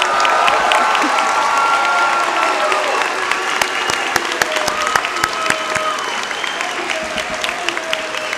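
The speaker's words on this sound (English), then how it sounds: "Let's give them another round of applause." Sustained audience applause at a spring community college commencement ceremony, a dense steady wash of many hands clapping filling the hall for the whole stretch, with crowd murmur and faint cheers mixed in.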